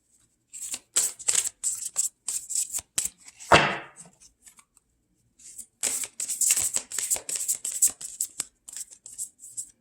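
Sticky tarot cards are shuffled by hand in repeated quick riffling bursts, close and fairly soft, with a short pause midway before the shuffling resumes in a denser run.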